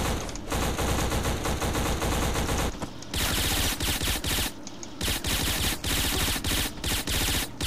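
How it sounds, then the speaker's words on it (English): Sustained machine gun fire from the video game Black, loud and intense, with rapid bursts chattering almost nonstop and only brief pauses between volleys. "this game is just like so loud with the machine gun fire"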